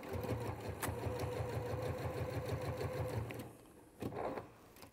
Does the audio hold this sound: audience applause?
no